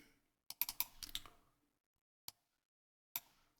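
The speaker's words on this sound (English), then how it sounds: "So I cannot copy it, so I have to type it" Computer keyboard typed on in a quiet room, a short burst of light clicks followed by two isolated keystrokes, faint and close.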